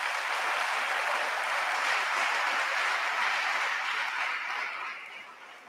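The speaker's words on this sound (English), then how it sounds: "You deserve a round of applause for yourselves." A crowd of students and staff claps at a 2022 graduation ceremony for final-year students of St. Martin's SHS, Adoagya. The applause is even and sustained, then softens and thins over the last second.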